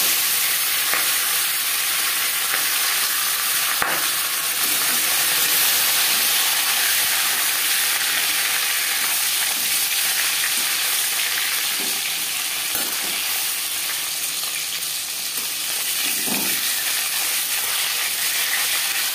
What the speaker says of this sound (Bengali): দিয়ে দেব লবণ হলুদ মেখে রাখা মাছ